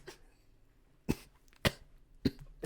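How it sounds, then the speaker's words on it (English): Three sharp, harsh coughs from one person, spaced about half a second apart after a quieter opening sound, close to the mic against a near-silent background. "That made me start coughing."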